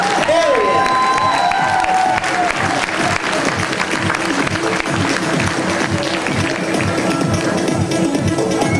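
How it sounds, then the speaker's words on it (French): Steady, loud applause and cheering from a crowd at an IFBB bodybuilding qualifier as the men's junior category winner is announced, a continuous dense clapping mixed with faint shouts. "Big hand of applause for our winner."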